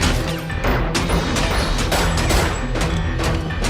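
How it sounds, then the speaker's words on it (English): Gunshots strike bulletproof glass in a movie scene, a dense run of loud smashing cracks and thuds packed closely together over a few seconds with no talk. "He fires at the glass and drops a bookshelf on it"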